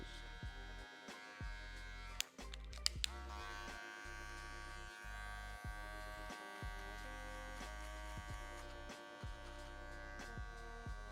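Electric hair clippers buzz steadily and close up while trimming and blending a beard during a bald fade, the motor hum dipping and shifting briefly as the blade works.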